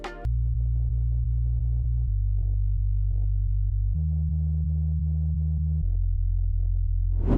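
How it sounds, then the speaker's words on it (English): A clean, unprocessed sub bass synth plays long, pure low tones, shifting pitch every couple of seconds in a simple four-note pattern, loud and alone. "Next we have a sub bass, which without processing sounds like this"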